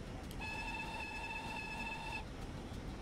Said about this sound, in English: Oh, I like that whistle.